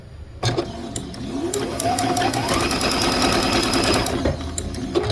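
A sewing machine stitching small quilt pieces together runs in a steady rapid mechanical whir for several seconds, loud and close, starting abruptly and ending near the close.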